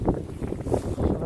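Gusty wind buffets the microphone outdoors in brief, low rumbling bursts.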